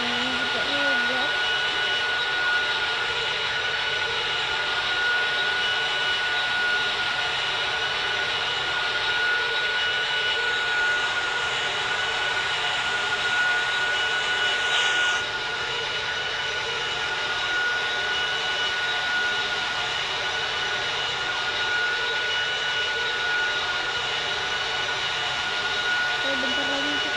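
A steady, loud airplane engine drone fills the cabin during a flight, a constant broadband roar with a thin whine running through it and a soft voice speaking occasionally.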